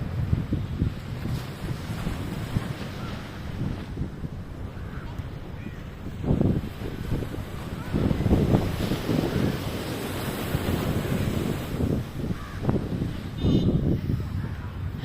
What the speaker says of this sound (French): respirer le bon vent marin